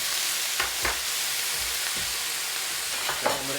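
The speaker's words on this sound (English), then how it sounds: "You're going to hear that sizzle. That is the hot oil and the water hitting each other." Vegetables hit hot oil in a pan and sizzle steadily, a loud, continuous hiss of frying with a few soft stirring clunks and scrapes, close up.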